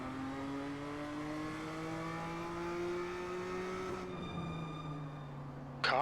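Steady engine drone of a BMW race car in the iRacing sim game, pitch creeping slowly upward while idling on the grid, then dropping sharply near the end with a brief harsh burst; constant, moderately quiet, no voices.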